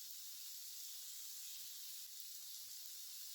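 A spoonful of garlic ginger paste fries in three to four spoons of hot oil, giving a steady, even sizzle and hiss that holds without a break.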